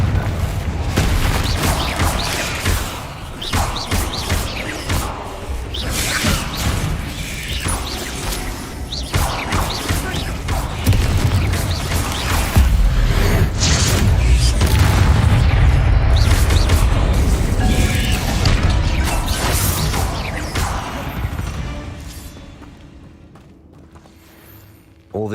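Confringo blast spell in the Hogwarts Legacy video game: heavy booming explosion with crashing debris and whooshes, sustained rumbling impacts that fade out near the end.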